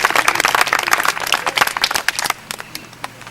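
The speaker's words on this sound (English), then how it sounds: "Round of applause for our friend there" Audience applause breaks out at a bird of prey display at Dunrobin Castle, a burst of dense clapping that thins and fades after a couple of seconds.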